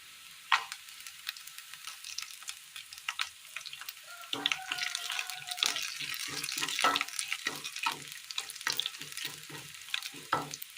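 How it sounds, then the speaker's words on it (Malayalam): Dried red chillies fry in oil with sautéed shallots, a low crackling sizzle broken by sharp scraping stirs and clinks of a utensil against the pan, fairly close and moderately loud. "വാടി വന്ന ചെറിയുള്ളിയിലേക്ക് വറ്റൻമുളക് ഇട്ട് കൊടുക്കാം"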